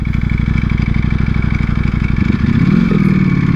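A 2020 Ducati Panigale V4 R motorcycle on a short ride, its engine a loud, steady close-up drone that climbs in pitch near the end as the rider accelerates, with faint wind rush over the top.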